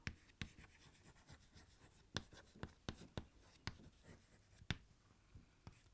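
Chalk or marker writing an accounting journal entry on a board, a quiet close series of sharp taps and scratchy strokes in uneven rhythm, with soft rubbing between, no talk over it.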